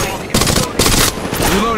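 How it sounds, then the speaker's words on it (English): Gunfire in the Apex Legends Mobile shooter, three loud, close bursts of automatic fire with short gaps between them. "Shots fired and they're hitting me."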